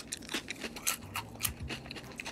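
Crunchy, hard, sandpaper-textured cookie chewed close to the microphone, giving a quick run of dry, crisp crunches and bites over a couple of seconds.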